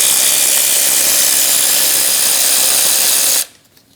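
A power tool drives a 14mm socket on the timing-belt gear bolt of a 2005-2009 Subaru Legacy, giving a loud, steady, close-up whirring grind for over three seconds before cutting off abruptly into quiet.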